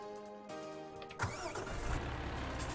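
In Farming Simulator 17, a tractor engine cranks with a whirring starter, catches with a thump and settles into a rumbling idle, fairly faint throughout.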